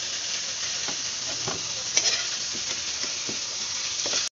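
Garlic sautés in oil in a pan while cooking chicken, a loud, continuous close sizzle broken by occasional spatula scrapes and stirring taps.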